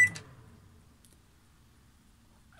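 A short electronic beep sounds from a caravan or motorhome appliance control panel as the cancel button is pressed, one brief tone right at the start, followed by near silence.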